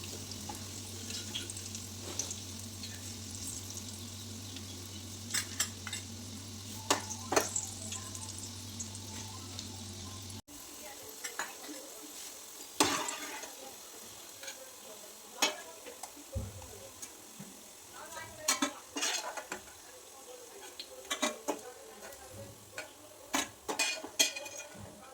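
Banana flower fritters frying in oil in a kadai, flipped with a spoon and spatula: soft sizzling with scattered sharp clinks and scrapes of utensils, a low hum in the first part, then quieter frying with intermittent knocks.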